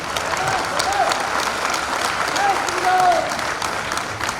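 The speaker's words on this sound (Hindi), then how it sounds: "जरा जोरदार तालियां बजा दीजिए" Dense, steady applause from an audience at a political public event in Sagar, loud and sustained across the whole stretch, with a faint voice underneath.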